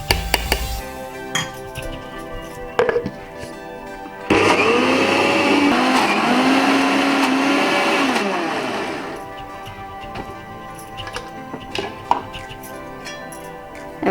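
Mixer grinder grinding soaked lentils for dahi bhalla batter, a loud steady whirring motor drone lasting several seconds before winding down, framed by clinks and knocks of the jar being handled.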